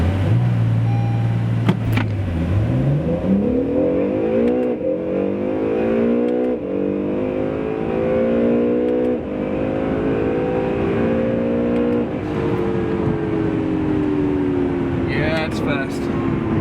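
Acura NSX engine revving hard up toward redline, a loud rising harmonic whine that climbs, drops at a shift and climbs again over about sixteen seconds, with people talking inside the car.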